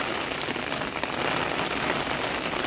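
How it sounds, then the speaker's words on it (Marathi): Steady monsoon rain pours down and patters densely on surfaces nearby, a continuous even hiss with no voices. "आता पाऊस इल्यामुळे आम्ही आता हय लवायत उभे राहावं, कारण भिजाव होता म्हणून"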